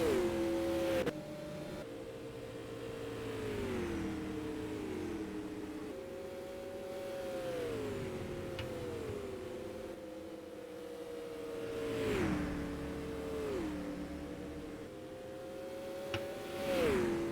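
Non-wing supermodified race cars lap an oval through lap traffic, engines droning and rising and falling in pitch as they pass, several cars overlapping in a steady, moderately distant roar.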